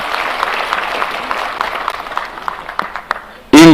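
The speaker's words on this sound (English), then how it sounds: "Can we give a clap of appreciation to Amma?" A crowd at a Kenyan National Housing Corporation celebration attended by President Ruto claps in appreciation, a dense, steady patter mixed with voices, ending in a sudden loud burst.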